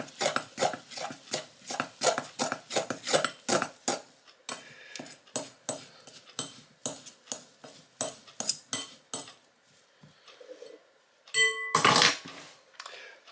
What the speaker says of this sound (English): Stir it all up and thoroughly mix it